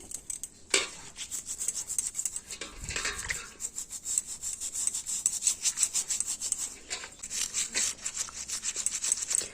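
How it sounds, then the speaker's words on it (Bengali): Brush scrubbing cracked heels, rapid rhythmic scratchy rubbing strokes, close and continuous with brief pauses. "চলো এটা দিয়ে প্রথমে ভালো করে ঘষে নিই"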